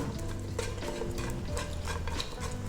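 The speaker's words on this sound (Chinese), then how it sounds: "将它搅拌均匀" Caramel popcorn being stirred and tossed in a pan to coat it evenly, a soft continuous scraping and rustling of kernels with faint utensil clinks, close and steady, no voices.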